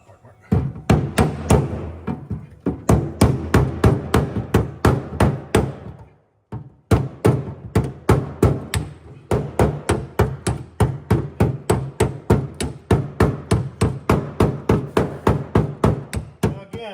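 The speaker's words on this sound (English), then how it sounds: "See if I can't use a hammer and dolly and try and clean it up a bit." Sharp metallic hammer-and-dolly blows on a car's sheet metal underbody ring out in quick, rhythmic bursts, pausing briefly midway before the steady pounding resumes, close and loud.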